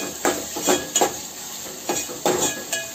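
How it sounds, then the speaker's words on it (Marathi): Cumin seeds sizzle in hot oil over a low flame, a faint steady crackle broken by several short scraping stirs of a spoon against the pan. "जिरा आणखी तेलात 1 मिनिट होऊ द्यायचं।"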